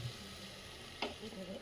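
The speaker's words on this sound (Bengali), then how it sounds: "মাংসও দিয়ে দিয়েছি, দিয়ে কিন্তু একটু নাড়বো, আস্তে আস্তে একটুখানি আঁচ কমিয়ে নাড়বো" Meat with onion and potato is stirred in a pan over lowered heat, giving a soft steady sizzle and one brief scrape of the spoon, faint and close.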